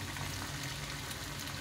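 Potato pakoras frying in hot oil, a steady dense crackling sizzle, close and fairly quiet, with no voices.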